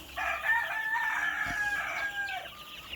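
A chicken sounds a single drawn-out crowing call from a chick pen on a farm, loud and close, with a faint low rumble beneath.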